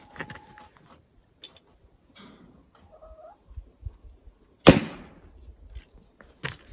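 A sharp, loud shot from an FX Wildcat MK3 .22 air rifle firing a slug into ballistics gel, a single crack standing out in a quiet setting with a few faint clicks and handling noises around it.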